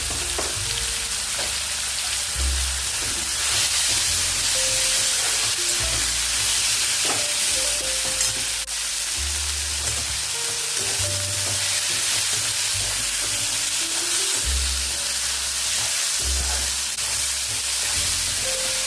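Tomatoes with ginger garlic paste fry in a pan for a dhaba-style cauliflower and potato dish, giving a continuous sizzle broken by repeated scraping and clanking of stirring, close and fairly loud, with no talk.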